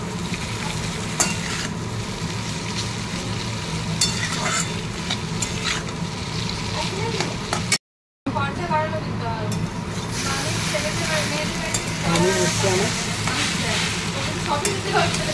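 Chow mein is stir-fried with potato, onion and fried chilli. A steady, close sizzle runs under repeated stirring, with faint voices in the background.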